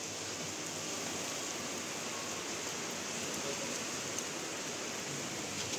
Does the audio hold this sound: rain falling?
yes